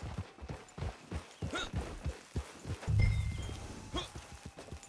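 Hoofbeats of a horse being ridden in the Red Dead Redemption 2 video game, a quick rhythmic clip-clop running steadily through the clip with a brief low rumble partway, and a voice speaking.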